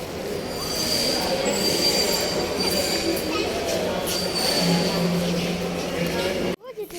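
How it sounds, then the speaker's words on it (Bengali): A train rumbles and clatters past with long metallic wheel squeals, loud and near, as people talk faintly in the background. "যাও যাও ওই যে ট্রেন"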